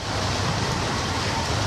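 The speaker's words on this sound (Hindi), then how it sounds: "थोड़ी थोड़ी बारिश जो है वापस शुरू हुई है।" Heavy monsoon rain pouring down in Mumbai, a dense, steady hiss of rainfall filling the whole moment without pause.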